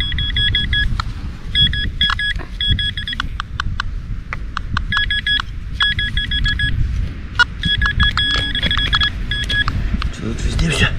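Short electronic beeps from a metal detector in repeated bursts chirp above a low rumble of outdoor handling noise as it sweeps over a buried coin.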